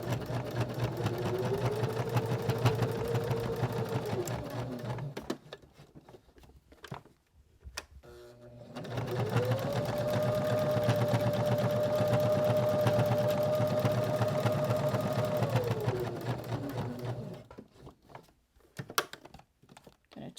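A sewing machine stitches ribbon onto a handmade sewing kit, running steadily in two long stretches with a brief pause between, close and clear.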